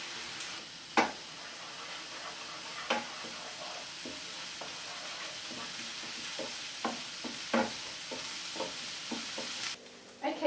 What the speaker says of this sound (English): onion, garlic, ginger and chilli mix is beginning to fry up in the oil